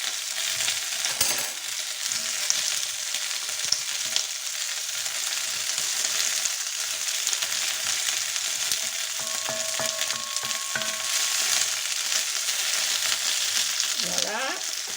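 Chorizo sizzling in a pan with browning meat for paella, a steady close frying hiss throughout with occasional light stirring scrapes and clinks.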